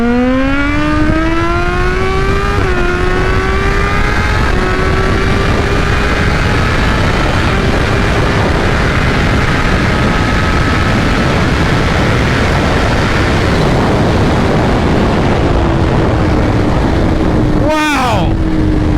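A 2021 Kawasaki Z H2 motorcycle revs hard through the gears on a dyno, its loud supercharged engine pitch climbing steadily for about seventeen seconds before a sharp shift break and a brief drop.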